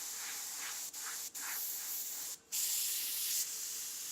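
An airbrush sprays black paint onto a freehand skull artwork, a close, steady airy hiss broken by a few short pauses as the trigger is released.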